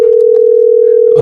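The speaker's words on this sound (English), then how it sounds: "it's ringing." A telephone line tone plays during an outgoing call. It is a loud, steady, unbroken electronic tone, with faint clicks at the start and a brief rustle near the end.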